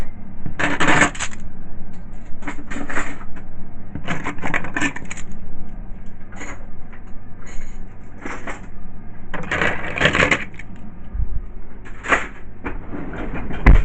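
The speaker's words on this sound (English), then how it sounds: "let me move these into my drawer." Antique items being moved into a drawer, a series of clinks, knocks and wooden rattles in irregular bursts, close by with a quiet room between them and no talk.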